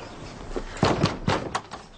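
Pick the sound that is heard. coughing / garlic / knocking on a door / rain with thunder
knocking on a door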